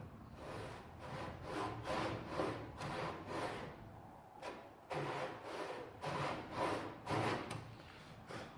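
Hand saw cutting wood for a gantry, rhythmic back-and-forth rasping strokes of about one per second, close and moderately loud with brief pauses between bursts.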